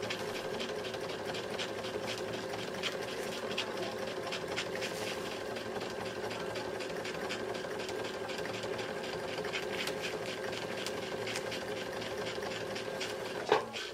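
A domestic sewing machine stitches an appliqué in straight stitch, running continuously with a quiet, even, rapid mechanical rattle and no speech, then ends with a small click.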